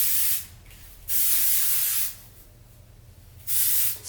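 Sebastian Reshaper humidity-resistant hairspray hissing from an aerosol can onto short hair in three separate bursts, each lasting about half a second to a second, close and loud with quiet gaps between.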